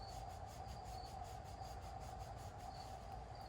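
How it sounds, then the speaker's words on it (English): Sanding pad with roughly 180-grit paper circling against a rusty screw hole on an RV, a steady, continuous rubbing scrape close up with no talk. "I just stick it against the hole opening and just circle it like that"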